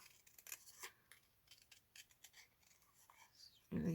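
Scissors snip through craft card to cut out stamped images, giving a run of quiet close crisp cuts and rustles, with a louder handling noise at the end.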